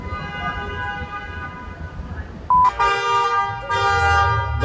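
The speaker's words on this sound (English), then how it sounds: "The loud car set off the car alarm on the block I'm on." A car alarm blares on a city street block, its steady electronic tone starting partway through with loud bursts and brief gaps, over a constant low traffic rumble with a loud car nearby.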